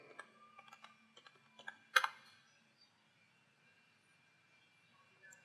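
Quick keystrokes on a computer keyboard while entering a command in a browser, a burst of light clicks in the first two seconds ending in a sharper key press, then near silence.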